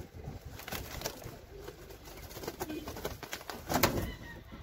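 Tumbler pigeons coo softly in their coop, low murmuring calls repeating close by over a faint background hum.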